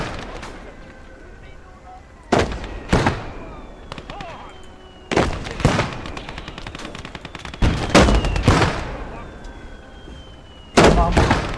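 Machine gun fire in a war video game comes in several loud, sharp bursts separated by short pauses, with distant crackling shots and background noise between them.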